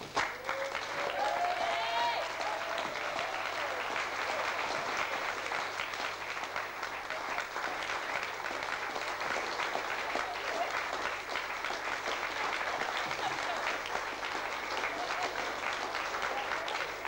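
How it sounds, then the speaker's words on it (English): Wedding guests applaud steadily and loudly at a 1989 reception as a presentation is made, a dense, continuous round of clapping with faint voices mixed in. "Please give a warm applause as this is being given."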